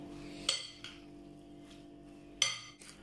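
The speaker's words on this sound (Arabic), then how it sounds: "غنخلطوها دابا مزيان باش تدخل بعضياتها" Chicken filling being mixed in a bowl, two sharp clinks of a utensil striking the bowl separated by quiet soft scraping, close and faint with no speech.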